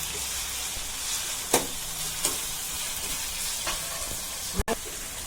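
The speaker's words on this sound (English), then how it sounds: "Now I'm going to put in the tomatoes." Small-chopped tomatoes dropped into a hot pan fry with a dense, steady sizzle, broken by a few brief spoon scrapes and one sharp knock near the end, close and fairly loud.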